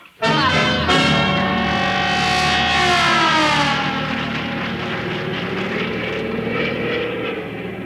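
Propeller airplane passing overhead as a radio comedy sound effect, a loud droning roar that rises abruptly, then slides downward in pitch as it passes and fades into a sustained engine hum.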